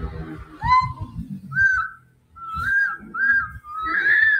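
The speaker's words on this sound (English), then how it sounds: "Nakakapag-whistle ka pa din." A person whistles several short, clear notes, some rising or wavering, between soft breaths and small mouth sounds, close and fairly loud.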